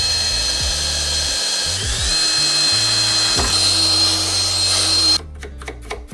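A loud, high-pitched electric drill whines steadily while boring, then cuts off abruptly, leaving a few quieter clicks and knocks.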